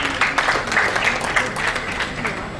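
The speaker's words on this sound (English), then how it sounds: "A big round of applause for our guest" Conference audience applauding a guest speaker, a steady burst of clapping from many hands, fairly loud and close, with a voice briefly heard over it.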